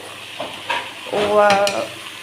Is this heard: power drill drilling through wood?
no